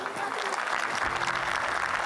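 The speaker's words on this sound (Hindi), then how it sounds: "जोरदार तालियां।" An audience at a school annual day cultural evening breaks into dense, sustained applause, heard across the whole stretch.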